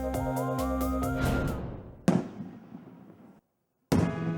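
Aerial firework shells, propelled by black powder, burst in loud booming cracks, each explosion fading into crackling, with a brief silence between the later blasts.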